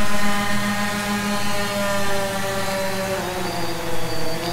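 DJI Phantom drone propellers spinning up for takeoff on skid landing gear, a loud, steady close-up whine with layered harmonic tones that shift slightly in pitch near the end, with no talk.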